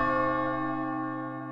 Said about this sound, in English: One of my favorite parts of the original track is like a church bell that they put in there.